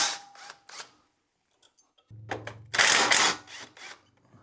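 A ratchet clicks in short busy bursts while undoing the suspension bolts on a Subaru WRX during a coilover install, the sound close and loud after a brief quiet stretch.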